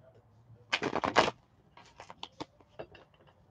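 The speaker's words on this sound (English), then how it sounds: "I'll start shuffling your card, Strawberry." Tarot cards shuffled by hand, a quick riffling burst followed by several lighter flicks and taps, close and fairly quiet.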